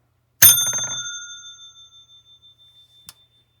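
A single bright bell ding from a Casio PA-81 keyboard percussion pad, imitating a hotel desk bell, rings out and rings on, fading slowly, followed by a small click near the end.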